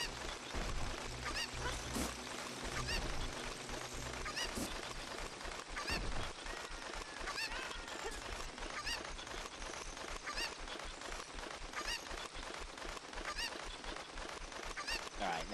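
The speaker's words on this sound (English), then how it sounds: "Let's grab the cuckoo and let's keep it with us this time." A cucco chicken in the video game The Legend of Zelda: Ocarina of Time gives faint, repeated honking clucks above a busy, quiet game backdrop.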